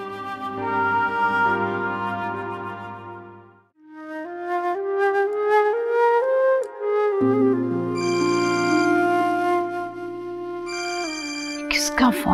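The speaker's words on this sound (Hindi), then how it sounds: "किसका फोन बज रहा है?" A melodic ringtone with layered musical tones plays loudly and steadily, pausing briefly once before resuming and ringing on.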